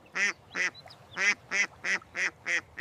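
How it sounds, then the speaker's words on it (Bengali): Duck quacking for a kids' cartoon animal-sounds lesson: eight short, raspy quacks in a quick, fairly even rhythm, close and clear with quiet gaps between them and no talking. "এটা হাঁস। হাঁস বলে ক্যাক ক্যাক।"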